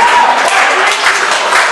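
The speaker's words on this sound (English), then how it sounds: "The crowd is behind." A crowd at a professional wrestling show cheers and applauds loudly and steadily, a dense continuous wash of claps and voices close to the listener.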